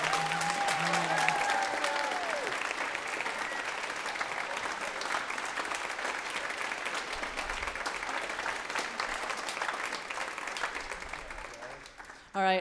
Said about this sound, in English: Can we give them all one last round of applause?